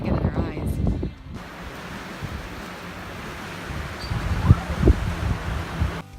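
Strong, cold wind in a desert sandstorm roars steadily around a family RV while boondocking, with a dense hiss and occasional harder gusts and bumps, and a voice speaking briefly at the start.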